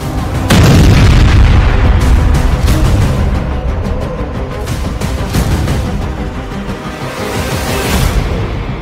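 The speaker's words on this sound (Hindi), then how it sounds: "एक धमाका" A missile strike on a weapons depot in the Russia-Ukraine war: a loud explosion booms right at the start, followed by a long rumbling roar with scattered crackles and pops fading through the rest.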